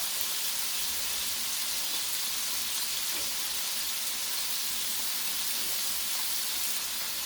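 Burgers sizzle on a Blackstone E-Series electric griddle, a steady bright hiss of frying fat with faint crackles throughout, close and constant.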